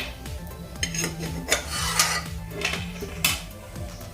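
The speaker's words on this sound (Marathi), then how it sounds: "आता या सुपामध्ये आपण बेदाणे आणि मनुके फ्राय करून घेऊया" Raisins and currants frying in a pan, a spatula scraping and clinking against the metal in a steady back-and-forth rhythm, close and fairly loud, with no voices.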